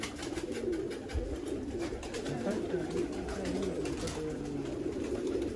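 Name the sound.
Sialkoti pigeons cooing on a rooftop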